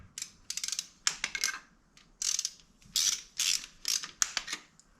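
A ratchet drives bolts holding a new timing chain guide onto an Ecotec engine, with repeated quick clicking bursts up close, several separate runs of rapid ratcheting broken by short pauses.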